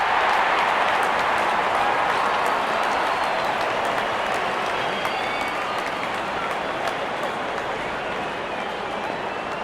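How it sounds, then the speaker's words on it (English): A cricket crowd at an India versus England T20 match cheering and applauding as the openers walk out, a dense, loud, sustained roar of clapping and voices. "Openers walking in and the crowd cheering in anticipation"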